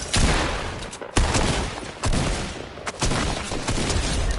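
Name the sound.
gunfire in Fortnite video game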